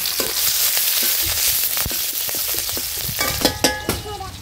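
Chopped onion fries in oil in a new wok, producing a loud, dense, close sizzle with occasional stirring knocks, then sharper crackles and spatula scrapes near the end; nobody speaks.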